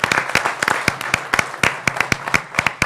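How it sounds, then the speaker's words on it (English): A live audience claps in a full round of applause for a St. Patrick's Day Parade Committee at a township committee meeting, sharp overlapping hand claps filling the room steadily, close and fairly loud, with no one speaking over it. "how about a nice round of applause for the 26th Annual St. Patrick's Day Parade Committee right behind us"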